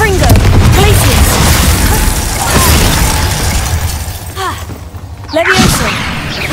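Spell-blast explosions from Confringo in the video game Hogwarts Legacy, a dense run of booming, shattering bursts and crackles amid other spell effects, loud and close, with a voice calling out spells over the din.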